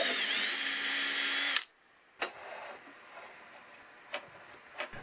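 Power drill boring a throttle cable pass-through in a model racer plane, a short loud whirring burst up close, then stops and leaves a few quiet clicks and handling taps.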